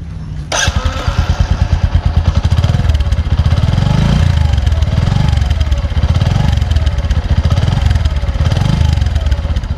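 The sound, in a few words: Bajaj Platina 100 ES motorcycle engine running smoothly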